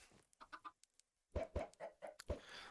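Chickens cluck in Minecraft with the Broken Script mod: a few soft, quick clucks, then a louder burst of close, sharp clucking calls in an uneven rhythm, with no talk over them.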